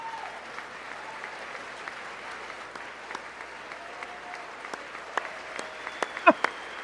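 An audience gives thin, light applause in a large hall, steady soft patter of claps with a few sharper nearby claps toward the end.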